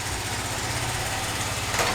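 Small Honda Z50A motorcycle engine running steadily after restoration, a buzzy, rattling single-cylinder idle with a slight rise in revs near the end, close by and continuous.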